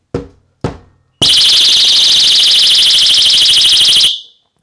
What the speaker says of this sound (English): it's pretty much protected by this alarm